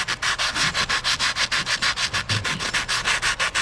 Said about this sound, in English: That's 120 grit, and we'll show you how we're getting in there to sand it down.